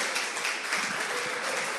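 A church congregation applauds God, a brief, dense and even wash of clapping from many hands, fairly faint and steady throughout.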